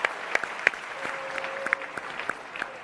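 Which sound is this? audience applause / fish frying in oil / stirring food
audience applause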